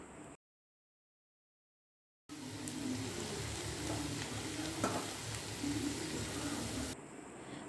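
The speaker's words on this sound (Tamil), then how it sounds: "எல்லாத்தையும் நல்லா மிக்ஸ் பண்ண உடனே நாம் ரெடி பண்ணி வச்சுருக்க நூடுல்ஸை இதில் சேர்த்துடலாம்." Wheat noodles are tossed into a hot pan and stir-fried, giving a steady close sizzle with scraping stirs and a few sharper clinks, after a short silent gap at the start.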